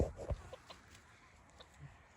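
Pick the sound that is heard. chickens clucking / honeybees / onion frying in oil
chickens clucking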